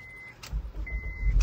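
A 2011 Honda CR-V engine catches and starts after a starter motor replacement, a brief chime followed by the engine firing and rising into a rough idle close by.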